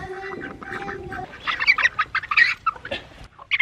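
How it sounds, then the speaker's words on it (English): Silkie hens and their chicks make soft, close clucks and rapid chirping peeps in uneven bursts, following a brief steady tone at the start. "There's the Silkies and their 3 babies."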